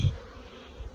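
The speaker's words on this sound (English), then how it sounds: "I'm going to shake all the bees in the box," Honeybees buzz in a hive box, a low steady drone with a louder swell at the start and another near the end, close and without talk.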